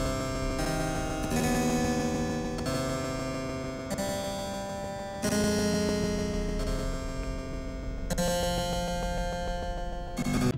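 A harpsichord piece from the video game Dark Alliance 2 plays steadily, with bright plucked chords and melody lines continuing at an even level for about ten seconds, with no talking.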